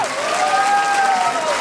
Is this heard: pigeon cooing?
no